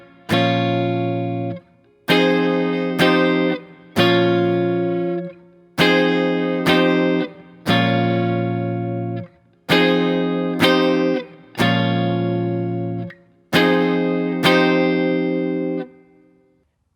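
Guitar chords for a song, strummed in a repeating pattern of held chords, each ringing out and decaying before the next, with no voice over it.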